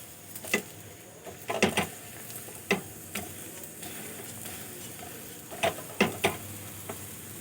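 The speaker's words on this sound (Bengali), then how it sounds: "এইভাবে আমি উল্টিয়ে পাল্টিয়ে পরোটাগুলো ভেজে নেব।" Lachha paratha fries in a pan as it is flipped over and over, giving a faint, steady sizzle with scattered sharp clicks and scrapes of the turner against the pan.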